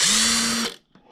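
A power driver whirs briefly and closely as it removes a screw from a Traxxas UDR RC truck, spinning steadily for under a second before stopping, followed by a faint click.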